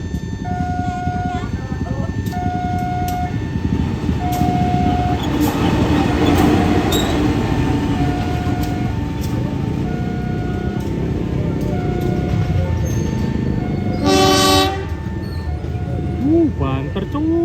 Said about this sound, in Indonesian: Ini dia lokomotif penolong masuk jalur 2 stasiun Probolinggo